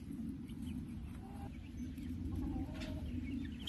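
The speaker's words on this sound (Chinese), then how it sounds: "山上的鸡在报警" Chickens up on a hillside give alarm calls, faint clucks and squawks at a distance over a steady outdoor background hum, with no voices.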